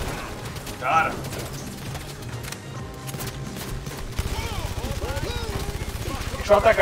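Rapid bursts of gunfire from the PlayStation VR shooter game Blood and Truth on PS4, repeated sharp shots in quick succession over a busy game soundtrack, with players chattering in the background.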